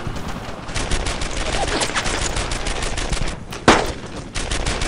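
Bursts of automatic gunfire from Brothers in Arms: Earned in Blood, a World War II shooter, form a dense continuous rattle of overlapping shots, loud and close, with a sharp single crack near the end.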